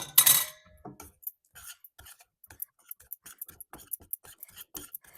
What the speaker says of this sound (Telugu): ఇప్పుడు పిండి పోసి కలపాలి పది నిమిషాలు దానిక కలపాలండి ఎందుకంటే మాడిపోతుంది కలుపుతూ ఉండాలి